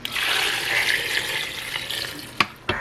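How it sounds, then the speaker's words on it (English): Tap water running steadily into a pressure cooker pot over tortellini, a continuous close hiss and splash with two sharp knocks near the end. "the water's coming up just right to the top of my pasta"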